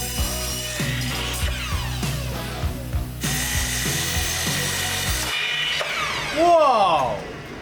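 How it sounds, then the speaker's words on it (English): Wood pieces being cut to size with a saw, giving repeated rhythmic rasping strokes close by. A brief squealing sound rises near the end, with occasional voices in the background. "We then began cutting pieces to size."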